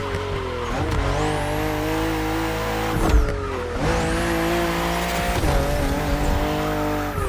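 A BMW M4 CSL racing in The Crew Motorfest, its engine droning loud and steady with shifting pitch, a brief tire skid near the middle and a steady roar running throughout.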